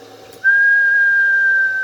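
A single sustained whistle into a two-way radio microphone, testing an amplifier's power output; the tone rises in, holds steady and loud for over a second, then drops off.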